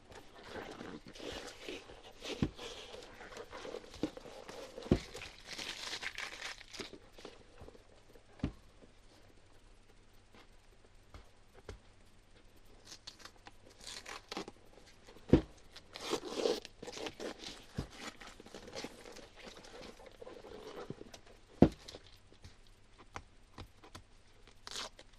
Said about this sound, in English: Let's take off the tape.